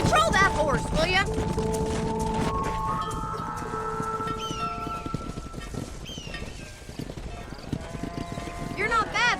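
Horse hooves clip-clop steadily while herding cattle on a ranch in the Western game Red Dead Redemption, under game music and spoken dialogue, with occasional whinnies and animal calls.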